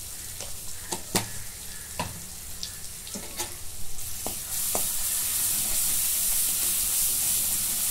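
Crushed garlic, chilli paste and turmeric sauté in a pan for buttermilk kadhi, with scattered stirring clicks, then a steady, louder sizzle builds and fills the last few seconds.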